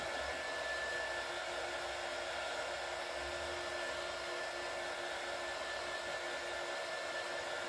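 A heat gun or hair dryer blows hot air onto craft foam for homemade stamps, a steady, loud, even whir with a thin constant whine, running without pause and with no voices.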